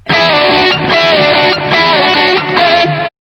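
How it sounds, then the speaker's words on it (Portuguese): A guitar, apparently electric with distortion, plays a loud, sustained riff of a few chord changes for about three seconds before stopping abruptly. "É o som da guitarra."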